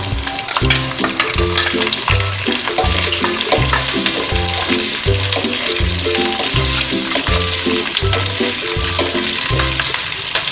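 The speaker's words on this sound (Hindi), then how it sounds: "हल्का कलर चेंज होने तक अनियन को हम भूनेंगे" Sliced onions sizzling in hot oil with garlic, ginger and cashews for a corn capsicum masala, a loud continuous frying hiss with rhythmic scraping and stirring strokes throughout.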